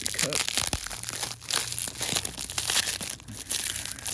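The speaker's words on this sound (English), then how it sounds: "let's carefully open this up here" A knife's shipping package is torn open by hand, with loud, continuous crinkling and ripping of plastic and paper wrap close up, in irregular bursts.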